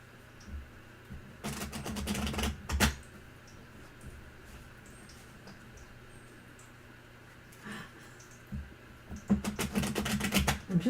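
Tarot cards being shuffled close by, with two bursts of rapid riffling clicks separated by a quiet stretch, then a third burst near the end.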